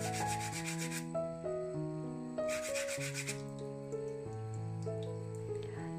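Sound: sanding terrazzo candle holder surface with sandpaper

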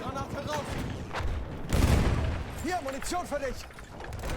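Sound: grenade thrown and exploding in the video game Battlefield 1

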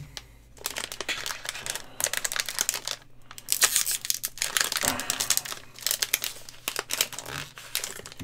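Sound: opening a Star Wars Destiny booster pack wrapper

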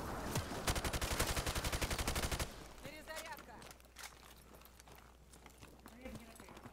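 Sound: chain gun firing in a video game

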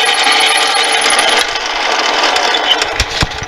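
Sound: drilling through a brass bar

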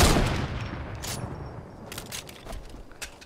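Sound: sideways rifle gunfire in video game Fortnite

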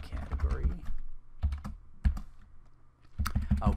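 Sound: typing code on a computer keyboard

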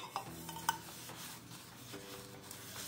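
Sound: buttering baking pans

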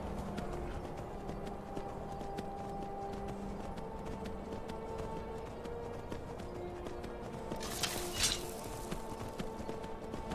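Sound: horse hooves galloping in video game

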